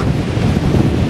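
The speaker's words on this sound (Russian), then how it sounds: "давно такого шторма не было, чтобы прям настолько сильно море выходило из берегов" Stormy Black Sea waves at Anapa's Dzhemete beach surge ashore in a loud, continuous roar of churning surf, heavily mixed with buffeting wind noise on the microphone.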